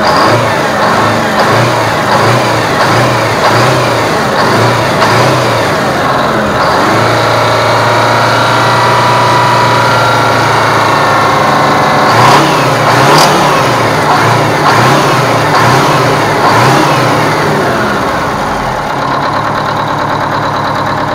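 Aerodyne cabover truck, sat for 27 years, engine running after a refuel: a loud, close diesel rumble that revs up and down several times, then settles toward a rough idle, with no talk.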